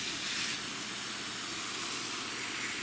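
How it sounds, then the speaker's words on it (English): Water misted from a hand spray bottle onto hardwood pellet bedding, a steady close hiss lasting throughout with no talking. "I'm just going to spray this down a little bit."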